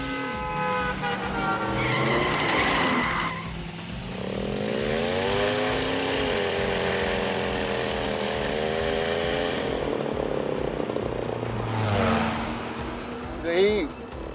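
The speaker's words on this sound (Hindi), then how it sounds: "तू ठीक से गाड़ी भी नहीं चला सकता।" A car speeds along a road with a loud, continuous engine roar that rises and falls in pitch as it revs. Tyres skid partway through, and people talk under the engine noise.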